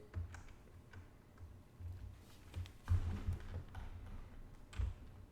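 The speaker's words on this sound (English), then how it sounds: "He's typing now." Soft typing on a computer keyboard, irregular bursts of faint key taps and clicks at close range over a quiet background, with no voices.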